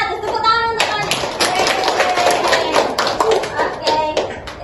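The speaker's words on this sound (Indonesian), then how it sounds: "Tepuk tangan untuk kalian." A classroom of children claps together in a brief, lively burst of applause, close by, with a few young voices mixed in.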